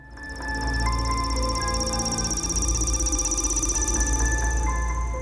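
A telephone rings continuously with a bright, steady electronic trill, loud and close, holding without pause and with no talk over it.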